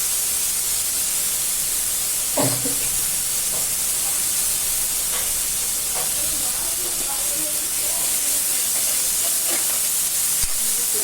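Mixed vegetables with ginger-garlic paste sauté in a pan, giving a loud, continuous hissing sizzle with occasional soft clinks and knocks throughout.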